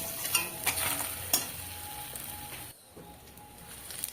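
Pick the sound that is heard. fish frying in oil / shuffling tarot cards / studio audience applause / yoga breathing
fish frying in oil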